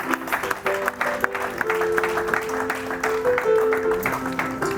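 A church congregation claps continuously in rhythm during a worship service, the applause close and dense, with sustained tones of singing or music running underneath.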